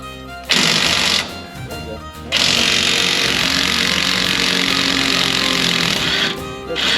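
Power impact tool spinning a bolt out of the bottom of a truck shock mount during an axle flip, loud rattling bursts starting and stopping, then a long continuous run, with voices mixed in.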